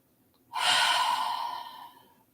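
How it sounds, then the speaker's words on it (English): One long, deep breath during a guided breathing meditation, close to the microphone and loud. It swells suddenly, then fades gradually over about two seconds, alone with no talking. "Taking a nice deep breath. Inhale in, exhale it out."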